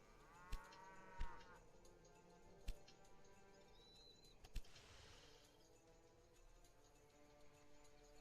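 Cattle moo in the railway strategy game Railway Empire 2, a drawn-out lowing call at the start, then quieter farmyard ambience with scattered clicks and faint chirps.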